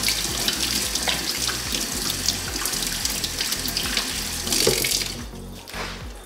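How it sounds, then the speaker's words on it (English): Hands being washed under a running kitchen tap after breaking down Hachiya persimmons, a steady close splashing stream with shifting gurgles as the hands move through the water. "All right, wash my hands."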